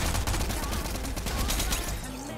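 Dense, continuous gunfire in Fortnite, rapid shots packed together over loud game noise throughout, fading slightly at the very end.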